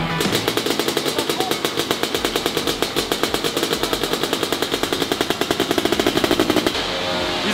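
An engine being run in on a test bench after assembly, firing in a rapid, steady, loud mechanical rhythm for several seconds, then cutting off near the end with no talk.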